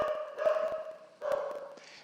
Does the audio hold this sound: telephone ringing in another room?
no